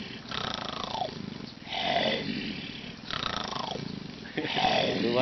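A voice imitates a tiger, giving four long, throaty roars in a steady rhythm, each swelling and then falling away into a growl, loud and close with short breaths between them.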